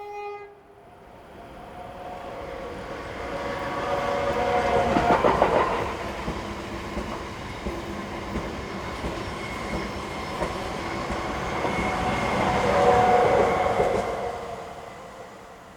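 Spanish train 130.011, working the Gijón to Alicante service, rolls through Santa Lucia station with a loud, sustained rumble of wheels on rail that swells twice as it passes, with clicking rail joints and no talking.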